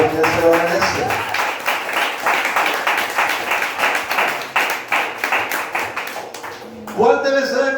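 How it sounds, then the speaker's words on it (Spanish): Church congregation applauding together during a Spanish-language worship service, dense steady clapping sustained for several seconds before a voice resumes speaking near the end. "Ese aplauso para el Señor, hermano, díselo porque Él se lo merece."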